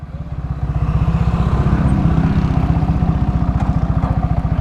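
A modified Yamaha Sniper VVA motorcycle with a 62 stock head revs hard and close, its engine holding a loud, steady, rapid pulsing drone throughout, no talk.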